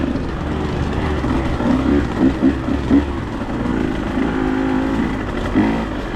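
A dirt bike engine drones and revs nearby along a wooded East Tennessee motocross trail, with a few louder throttle blips rising over the steady motor noise.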